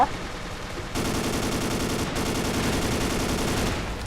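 Sustained rapid gunfire fills the Ace of Spades match, a loud continuous automatic burst that starts abruptly, runs for several seconds with a short break midway, then tails off, close and dominant.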